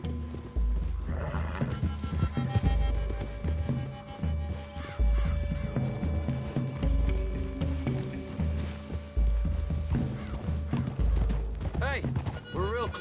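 Horses in Red Dead Redemption 2 plod and snort through woodland, hooves clopping steadily under a bed of game ambience and occasional talk, with a whinny or two rising near the end.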